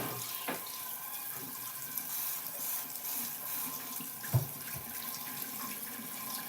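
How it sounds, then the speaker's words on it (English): Tap water running into a sink while a plate is washed, a steady soft splashing stream with occasional clinks and thumps of dishware, fairly quiet. "Let me wash my plate."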